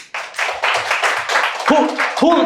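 A congregation at a small pioneer church claps during a sermon, with loud, dense applause starting abruptly and running steadily; voices break in near the end as the clapping continues.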